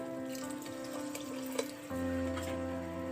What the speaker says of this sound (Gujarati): આપણે તેની અંદર એક કપ ગરમ પાણી છે તે એડ કરી દેશું